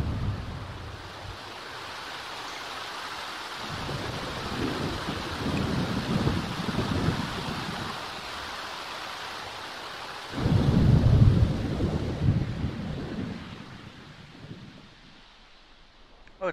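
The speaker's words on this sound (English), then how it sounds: "Dang, it's crazy thunderstorm." Thunderstorm with rain in The Sims 4: steady rain hiss with deep rolling thunder that swells loudly midway and then fades toward the end, with no voices.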